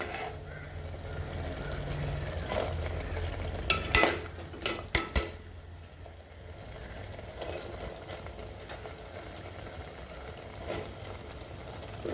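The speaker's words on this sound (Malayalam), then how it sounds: "സവാള കൂടെ ഇട്ട് നന്നായിട്ട് വഴക്കിയെടുക്കണം" Sliced onions and small shallots sauté in a little oil in a pan over a medium flame for a traditional Kerala country chicken curry. A faint, low sizzle runs under a few quick clinks of a stirring utensil midway.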